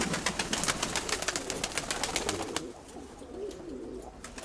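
Pigeons coo softly in a loft with grey and coffee-coloured birds, while a fast series of close, crisp clicks or flapping bursts dominates the first half before fading to quieter cooing.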